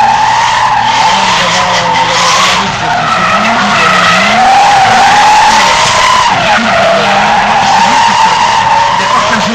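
Drift car number 12 skids through a continuous loud slide at the 2010 Pusey drift challenge, its engine roaring and tires squealing without a break, the pitch rising and falling as it drifts.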